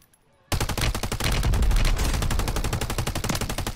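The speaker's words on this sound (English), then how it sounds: "I just shot a whole clip into his head" Automatic gunfire in the video game Warzone on Rebirth Island, a sudden loud burst of rapid, evenly spaced shots that begins after a brief quiet and hammers on without pause.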